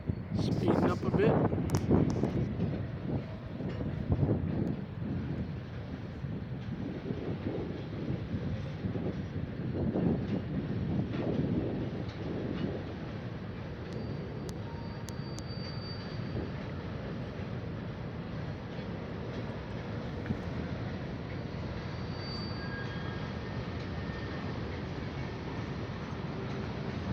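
A Union Pacific and Norfolk Southern freight train rolls past at a distance, gathering speed, its low rumble and wind buffeting steady throughout as someone talks over it.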